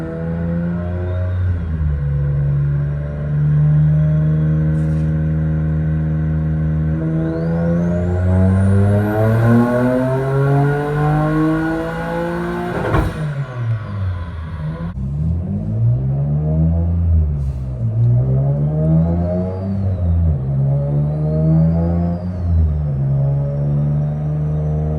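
A built Nissan 350Z engine on a dyno climbs steadily through a long rising rev pull, hits the top, drops off sharply, then blips and revs up and down several times, loud and close.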